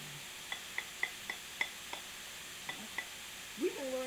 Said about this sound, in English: I'm going to stir things up